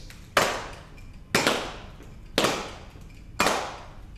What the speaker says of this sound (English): And if we clap quarter notes,